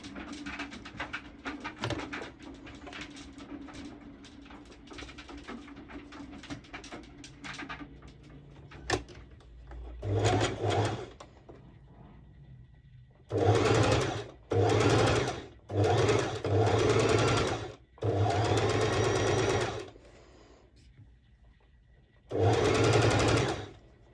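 Sewing machine stitching a swimsuit with mesh cut-outs, running in several bursts of a few seconds each with short pauses between, loud and close after quieter handling noises at the start.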